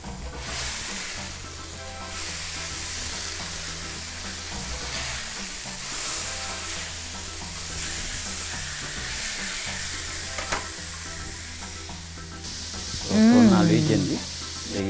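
An egg fries in olive oil in a frying pan, a steady bright sizzle and hiss running throughout alongside rhythmic background music, with a short louder burst near the end.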